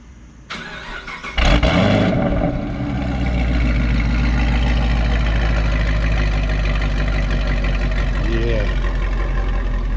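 A 2011 Chevrolet Camaro SS engine starts and settles into a steady, loud idle with a deep low rumble, running close by without letup.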